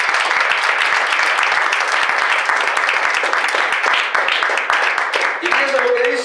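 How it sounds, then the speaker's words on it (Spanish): A church congregation applauds during a Spanish-language sermon, loud and close dense clapping filling the space, with a voice briefly heard near the end. "Denle un aplauso al Señor."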